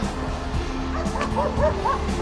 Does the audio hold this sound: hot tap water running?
no